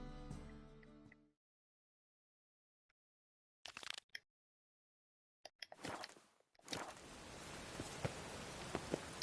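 Rain in the video game The Witcher 3 becomes a steady, close hiss after brief crunching bursts separated by silent gaps.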